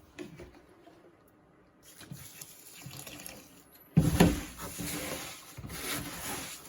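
Water being stirred and mixed into egg incubation substrate in an egg box for ball python eggs, wet sloshing and rubbing that start soft and grow louder and messier toward the end.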